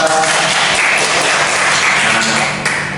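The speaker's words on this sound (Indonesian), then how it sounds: "tepuk tangan buat PNSA." Students in a Year 11 sociology classroom break into a burst of applause, steady dense clapping from many hands that runs the full three seconds before easing slightly at the end.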